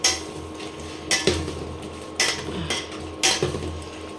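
A masala is stir-fried in a pan for an Indian dish: four sharp metal clanks of a spoon striking the pan come at roughly one-second intervals, each trailing off into a low sizzling background.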